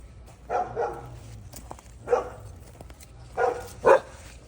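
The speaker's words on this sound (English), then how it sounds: "I've got a dog over there barking at my neighbors" A dog barks several times at moderate distance, single woofs spaced irregularly against a quiet background.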